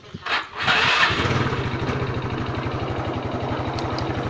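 A used motorcycle engine starts after a brief crank, then settles into a steady, close, rapid idle putter that runs on without talk.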